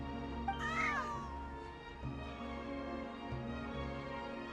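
A cat meows once in Genshin Impact, a clear rising-and-falling cry heard close over a steady bed of game music, with no talking.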